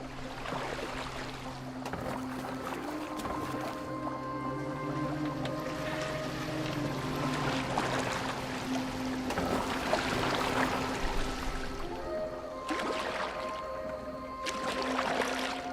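A boat moves across water in the Assassin's Creed Valhalla video game, with a steady sloshing wash and creaking beneath layered tonal game music, continuous and moderately loud.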